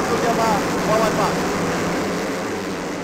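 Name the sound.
Yamaha racing motorcycles speeding past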